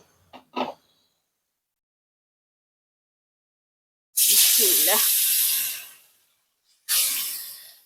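Pieces of cut fish fry in hot oil, with two loud bursts of hissing sizzle after a few brief sounds and a long silence.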